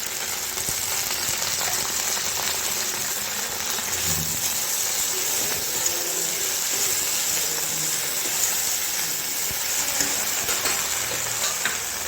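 Okra (bhindi) sizzles steadily in a pan on a gas flame at medium heat, a constant crackling fry with occasional stirring clinks and no voices.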